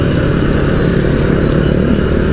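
A Yamaha R15 motorcycle engine runs loud and close, a steady throaty rumble with a slight rise in revs, nothing else heard.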